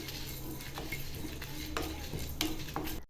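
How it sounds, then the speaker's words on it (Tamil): Spices being dry-roasted over medium heat in a pan are stirred with a spoon, giving a steady scraping rustle with light metallic clinks, close and moderately quiet, with no talking. "மிதமான சூட்டில் வச்சு வறுத்தெடுத்துக்கலாம்."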